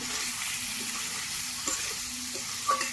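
Fried vegetables with chili, ginger paste, turmeric and salt sizzle steadily in a hot pan, a close, continuous crackle with a faint scrape of stirring near the end.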